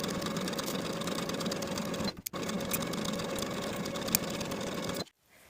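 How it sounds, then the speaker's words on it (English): A sewing machine stitches straight across the bottom edge seam of a women's suit jacket with a half-inch seam allowance, a steady close whirring that pauses briefly midway and stops near the end. "Sew straight across the bottom edge with a 1/2 inch seam allowance from center back to center back."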